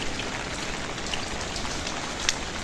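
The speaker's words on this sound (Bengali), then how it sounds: "বৃষ্টি আস্তে আস্তেই হচ্ছে।" Light rain falling steadily outdoors, an even close patter on surfaces with a couple of faint drips standing out.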